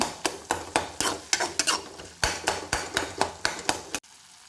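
Tomato being stirred and sautéed in a pan for a Tamil tomato egg thokku, with a steady run of sharp spoon-against-pan scrapes and knocks about every half second, loud and close, then a short pause.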